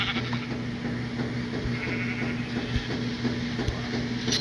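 Sheep in the Minecraft video game bleat repeatedly in steady, evenly spaced calls, loud and close, with no talking over them.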